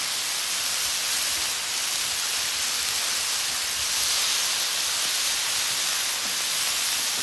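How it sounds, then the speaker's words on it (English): Shrimp with garlic and a squeeze of lemon steam on a hot flat-top griddle, giving a steady, even hiss that holds at a moderate level throughout. "That lemon's gonna help it steam."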